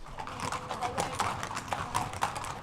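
Racehorse hooves clip-clopping across a stable yard, an uneven run of steady footfalls heard under someone speaking.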